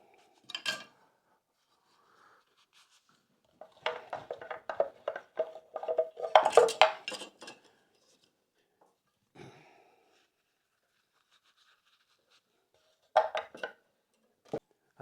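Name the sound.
spoon knives being put away in a wooden rack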